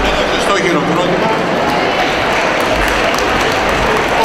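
An audience at a pita-cutting gathering in Chalkida, Greece, applauds, a loud, dense and steady clapping that fills the whole moment with no break.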